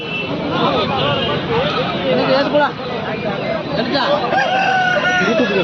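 An Aseel rooster crows amid a busy rural poultry market in Kundarapalli, Krishnagiri, its calls rising over constant crowd babble and nearby voices talking.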